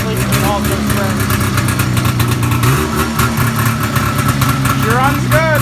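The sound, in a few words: Jaguar 340 engine idling with exhaust leak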